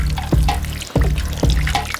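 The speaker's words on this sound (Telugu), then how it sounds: "ఇప్పుడైతే నీళ్ళు మొత్తం కింద పడుతున్నాయి మట్టి మీద" Water runs from a pipe and falls onto mud in a homemade clay cooling setup, making a close, continuous trickle broken by several sharp splashy gurgles.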